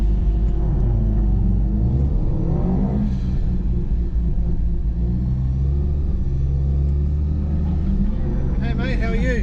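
A Mazda RX8 rally car starting its first racing lap at a tarmac rally at Sydney Motorsport Park, its engine a loud, continuous in-car drone that shifts pitch with throttle and climbs in a sharp rev near the end.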